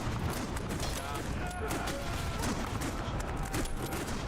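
Gunfire in a video game crackles in quick bursts of sharp reports over a busy, dense background of game noise. The shots are close and fairly loud and the sound continues the whole time.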